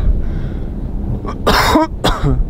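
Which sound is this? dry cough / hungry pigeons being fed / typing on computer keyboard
dry cough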